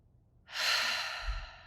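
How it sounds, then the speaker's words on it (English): A single long breath exhaled during a guided meditation, a soft airy sigh close to the microphone that starts abruptly and slowly fades, heard alone. "Exhale the breath."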